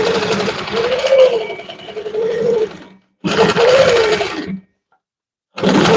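A sewing machine stitches a quilt in bursts, a loud close whirring motor drone running for a few seconds, stopping, then starting again, with brief silences between runs.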